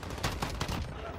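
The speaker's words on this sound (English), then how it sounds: "Shotgun!" Shotgun blasts in Call of Duty Modern Warfare on the Khandor Hideout map, a quick run of sharp booming shots, loud and close.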